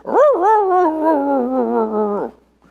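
A dog's whimpering howl plays as a sound effect, a single drawn-out wavering cry lasting about two seconds, loud and close with no talk over it.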